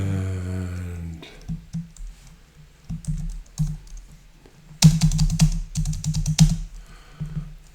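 Typing on a computer keyboard comes in irregular bursts of crisp key clicks, with short pauses between flurries and a tonal hum fading out at the very start.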